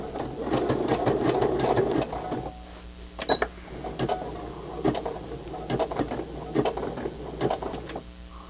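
A sewing machine stitching a fabric journal cover in a quiet room, running in a steady buzzing burst at first, then in short stop-start stitching spurts with soft clicks between.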